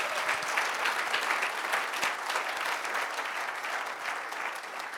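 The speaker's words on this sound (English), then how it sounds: "Please clap for yourselves for that." Steady applause from a conference audience at a PMI Africa gathering, a dense even wash of clapping that holds for the full five seconds without any talk.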